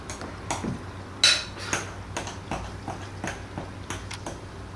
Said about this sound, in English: Then I'll mix it up.